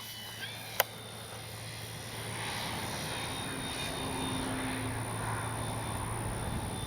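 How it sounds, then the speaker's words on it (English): A radio-controlled F4U Corsair warbird model plane revs up and takes off, its engine drone holding steady and building slightly in strength, with a sharp click near the start and an insect-like whine underneath. "Get that tail up. Drive that plane for a little bit first."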